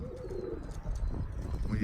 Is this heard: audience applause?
no